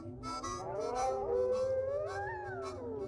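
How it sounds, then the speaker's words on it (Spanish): Several wolves howl together in long, wavering overlapping tones that rise and fall, a mournful chorus heard clearly with no talking. "y surgía el dilatado aullido de lobo."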